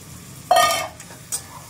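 Mutton mince and fat scraped and stirred in a hot pan, giving a sharp sizzling burst with a metallic scrape, then quieter hissing and a second brief clink.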